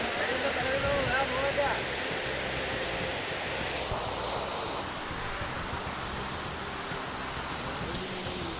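A waterfall in Coorg roars as a steady, loud broadband rush of falling water that fills the scene, with people talking in the background.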